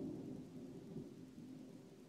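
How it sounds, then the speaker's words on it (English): Thunder rumbles low and distant outdoors, a soft continuous roll with no voices over it. "That's thunder."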